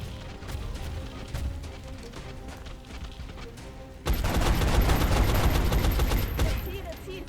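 Gunfire in the XCOM strategy video game: a quieter stretch of in-game sound gives way to a loud, dense burst of rapid shots and crashing impacts that continues to the end.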